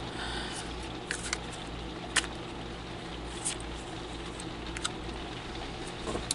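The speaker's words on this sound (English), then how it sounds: "that's raindrops hitting my roof" Rain falls on a house roof as faint, sparse, irregular taps and patters over a soft continuous low hiss, with no speech.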